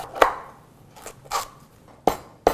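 A knife chops through lemongrass stalks on a cutting board, five sharp, separate thwacks spaced unevenly, close and crisp against a quiet kitchen background.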